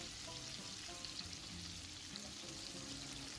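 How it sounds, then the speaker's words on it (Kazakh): Lamb tail fat fries in oil in a kazan, giving a faint, even sizzling hiss that holds steady from start to end with no talking. "Құзғұйрықтарымызды 5-6 минутта жақсылап майда қуырамыз"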